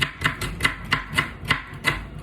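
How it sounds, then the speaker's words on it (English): A knife chops onion on a cutting board in a kitchen, with steady evenly spaced thuds about three per second, close and fairly loud. "So there I'm cutting the onion."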